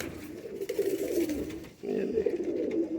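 Rare Batterey pigeons kept in a loft coo steadily in a low, continuous murmur close by, with one brief dip partway through and no voices.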